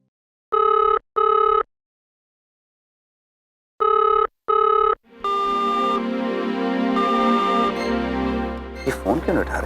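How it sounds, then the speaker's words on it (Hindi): An unanswered telephone rings in two double bursts with a pause between, clear and alone, before a home scene with people talking and background music takes over. "ये फोन क्यों नहीं उठा रही?"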